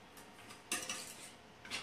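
Palette knife scraping and mixing blue, purple and burnt sienna oil paint on a palette, a few soft scrapes with one sharper swipe midway and another at the end, no voices.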